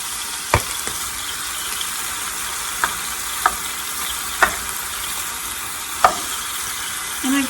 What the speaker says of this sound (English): I've got my meat browned, and I'm going to add back all of the previous batches.